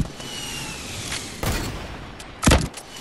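Gunfire in Fortnite rings out as a few sharp shots and bursts, with one loud crack in the middle and a heavier blast near the end over a steady game background, with no talk.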